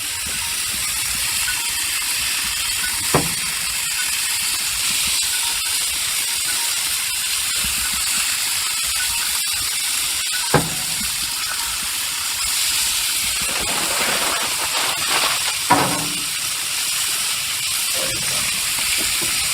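Tilapia fillets sizzle in olive oil on a Blackstone griddle: a loud, constant hiss with a few sharp pops and clicks now and then, and no speech.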